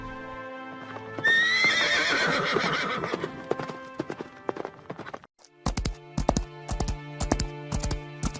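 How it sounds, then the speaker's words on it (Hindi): A horse neighs loudly, then its hooves clip-clop in a quick, steady galloping rhythm as it heads into a dense forest, close and clear with no talking. "राजकुमारी अपने घोड़े पर बैठ तेजी से घने जंगल की ओर निकल जाती है।"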